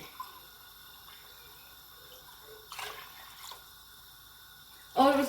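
Water poured into a cooking pot for a bulgur and mixed vegetable dish, with a couple of short splashing pours midway and a louder gush at the end over quiet kitchen background.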